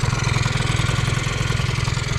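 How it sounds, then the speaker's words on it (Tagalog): A Honda Dio 50cc AF27 two-stroke scooter engine with a new exhaust pipe idles steadily nearby with a fast, even putter and no change in pace. "Tahimik yung makina, ano?"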